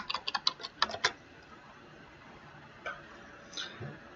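Quick burst of clicky keystrokes on a computer keyboard entering an admin password, then a pause and a couple of isolated taps, faint and close with no talk.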